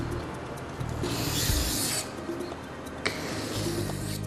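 Corners of a plane cutting iron are rubbed on an oil stone, making soft rasping strokes that rise and fall in a few sweeps, quiet and close, with no talk.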